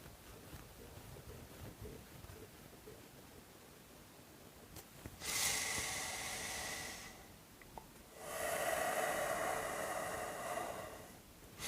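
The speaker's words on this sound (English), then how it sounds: "Inhale, exhale, hold." Breathing exercise for a stuffy nose: two long, forceful nasal breaths, one inhale and one exhale, stand out as loud airy rushes against a quiet background, with no talking.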